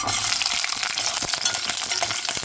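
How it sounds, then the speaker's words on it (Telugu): Green chilies fry in a pan for brinjal chutney, a loud, steady close sizzle with stirring scrapes and light clinks of a utensil against the pan, with no talking. "ఇప్పుడు పచ్చిమిరకాయలు వేయించేసుకుంటే"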